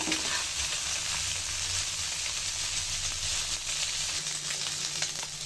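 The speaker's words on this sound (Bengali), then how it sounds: "মাছগুলো এক পাশ ভাজা হয়ে গেছে আর পাশ দিব" Taki fish fry in a pan with a steady, loud sizzle and crackle of hot oil, continuous and close with no talking.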